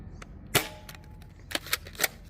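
A Nerf Aeon Pro blaster firing full-length darts, one loud, sharp pop followed after a pause by three more quick pops in close succession, nearby and without talk.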